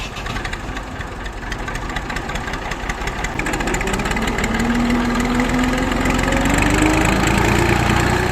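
A tractor hitched to a trolley loaded with sugarcane idles nearby, its mid-pitched engine chugging steadily and growing louder partway through, with a rising whine layered over the rumble.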